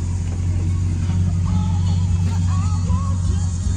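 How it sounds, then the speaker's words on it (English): A lifted 2013 Ram Power Wagon pickup with an aftermarket exhaust idles nearby, its deep steady rumble running throughout while someone talks over it. "That's some kind of aftermarket exhaust."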